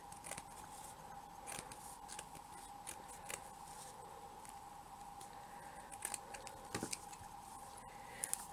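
Scissors snip around a blinged-up bib necklace piece in a series of close, quick, light clicking cuts, steady over a faint hum, with a few louder snips near the end.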